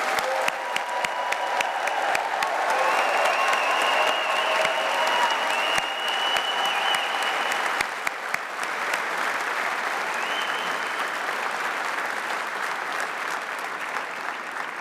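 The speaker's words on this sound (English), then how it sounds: "let's have another round of applause for our graduating class today" Large audience applauding a graduating class at a university ceremony in a cathedral, a dense, loud, sustained wash of clapping that holds steady, then eases slightly toward the end with some cheering mixed in.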